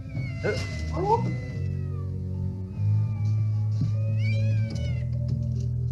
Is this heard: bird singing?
no